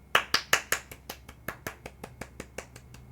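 Hand claps at a pyjama-party stream, crisp and close, in a steady sequence of about a dozen strikes that starts loud and then grows softer and evenly spaced.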